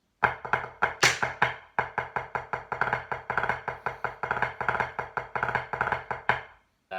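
A drum line snare break in sextuplets, with light left-hand floats between strokes: rapid, tightly unison snare strokes in steady grouped bursts, loud and close for about six seconds before stopping, with no talking.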